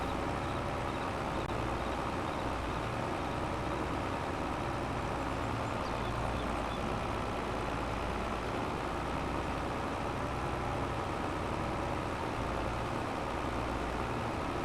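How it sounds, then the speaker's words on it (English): A Volvo logging truck in a forest logging video game climbs a hill under load, its engine holding a steady, low, droning rumble with no talking. "Little Volvo sounds good, doesn't it?"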